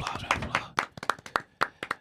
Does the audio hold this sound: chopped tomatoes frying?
no